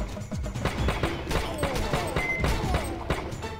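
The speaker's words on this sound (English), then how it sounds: "that's a lot of red shots that were coming towards me" Rapid bursts of gunfire crackle and pop through a mobile shooter game, Major Mayhem, with dense overlapping shots and impacts continuing throughout at steady loudness.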